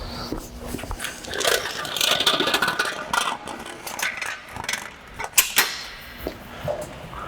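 A metal pop-up tent frame is raised with a pin pulled and the frame lifted, producing repeated creaks, scrapes and clicks of sliding joints at close range.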